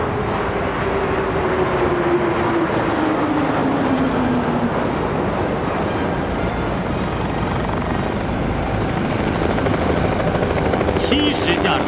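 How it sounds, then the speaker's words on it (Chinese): A formation of ten military helicopters flies over Tiananmen during a Victory Day parade, their rotors making a loud, continuous broadband roar for the whole stretch, with a steady drone sliding gently down in pitch. "10架直升机编成7个斜队和1个横队，飞临天安门上空。"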